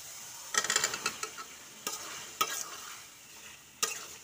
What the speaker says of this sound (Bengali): কষার পরে তেল ছেড়ে দিচ্ছি, তেল ছাড়ার পরে আপনার আলুগুলো আমি ছেড়ে দিই